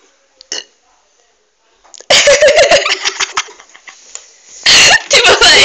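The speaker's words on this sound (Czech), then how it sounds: "krkám ještě to kakao" Loud burps after drinking cocoa during a cocoa spoon-eating challenge, one brief sound early, then long rasping eructations with laughter and chatter mixed in, ending in another burst near the end.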